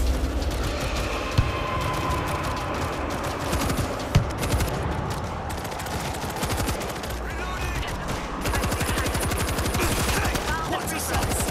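Gunfire in the World War Z zombie shooter game: dense, rapid, continuous volleys of shots crackle throughout, loud and close, with overlapping bursts and no pause.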